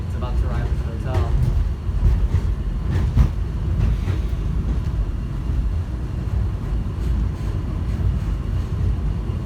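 An airport subway train runs fast between terminals, a dense rumbling roar with rattles and clanks, while passengers talk over it.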